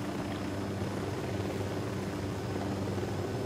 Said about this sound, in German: Erstmal den Helikopter von denen.